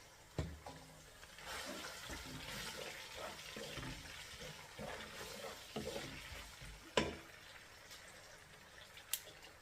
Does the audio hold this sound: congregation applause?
no